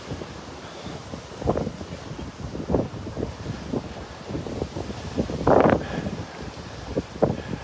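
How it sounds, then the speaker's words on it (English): Gusty wind on Delnor-Wiggins beach buffets the microphone in uneven rushes and swells on a cool morning, loud and close, with faint surf beneath and no talking. "it's just that wind. Just cuts right through you."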